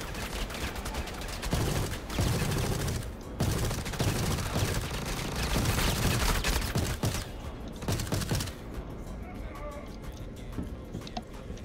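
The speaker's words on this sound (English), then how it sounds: "There's a fucking hell of gunfire over here." Gunfire rattles in the Star Citizen video game as dense, continuous bursts of shots under a player's voice, easing off toward the end into quieter background.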